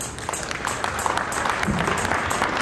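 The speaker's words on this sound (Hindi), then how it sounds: "इस बाल व्यास के लिए जोरदार ताली से स्वागत।" Warm applause from the audience at a Ram Katha religious storytelling gathering, a brief burst of many hands clapping together, steady and moderately loud.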